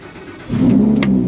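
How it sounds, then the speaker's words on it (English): A Lamborghini Huracan's V10 catches on a cold start at close range: a quiet lead-in, then a sudden loud surge into a steady, rich engine roar that holds at full volume to the end. "Cold starts on this are always the best."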